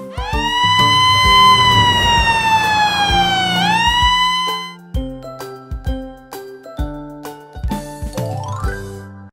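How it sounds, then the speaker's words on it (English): A white ambulance siren wails loudly for about four seconds, its tone rising and sweeping, then gives way to bouncy melodic music with no speech. "white Ambulance."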